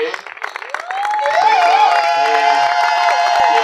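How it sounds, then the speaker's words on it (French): A church congregation cheers for visitors, a loud crowd roar of shouting, whooping and applause swelling quickly after a few scattered claps and holding steady and close. "Acclamez pour eux, acclamez pour eux."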